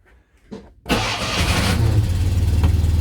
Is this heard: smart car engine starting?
yes